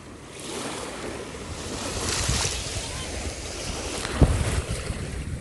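Waves wash steadily against the rocky Lake Huron shore, a continuous surf rush with gusts of wind buffeting the microphone and one sharper splash near the end.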